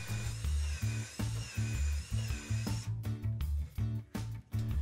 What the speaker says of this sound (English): drilling the pilot hole for the threaded insert